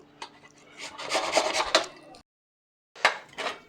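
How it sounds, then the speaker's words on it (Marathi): A red pumpkin is grated by hand, giving rough, rasping scrapes in a quick run of strokes. After a brief silence, a few more strokes follow, close and fairly quiet. "आपण हा राहिलेला भोपळा किसून घेऊ"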